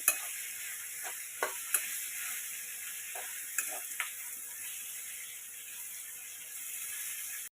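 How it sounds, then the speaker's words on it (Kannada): Chopped capsicum frying in a pan for capsicum rice gives a faint, steady sizzle with a few sharp clicks and taps of stirring scattered through it, and no voice over it. "ಒಂದು 2 ರಿಂದ 3 ನಿಮಿಷ ತನಕ ನೀಟಾಗಿ ಫ್ರೈ ಮಾಡ್ಕೊಳ್ಳಿ"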